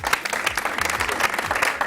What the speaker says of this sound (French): Les homotoqués, on va les applaudir bien fort s'il vous plaît.